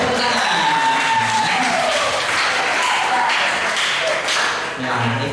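Dense, continuous applause fills the space at a church youth service and birthday celebration, loud and steady throughout, with crowd voices and cheering mixed in.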